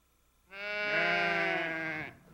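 A single sheep from a Navajo flock in Monument Valley gives one loud, close, drawn-out bleat lasting over a second, heard alone against quiet surroundings.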